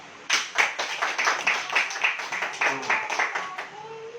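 A church congregation claps hands together in a steady, fairly quick rhythm of repeated sharp claps, loud and close, with crowd noise underneath and some voices mixed in near the end.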